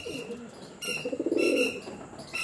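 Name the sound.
pigeons cooing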